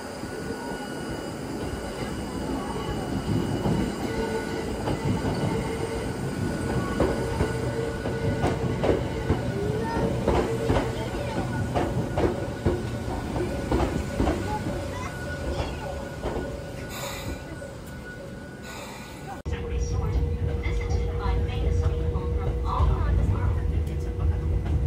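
Hakone Tozan Railway train pulling into a station on the mountain line, a continuous rumble of wheels and carriages with brief squeals, under a person talking.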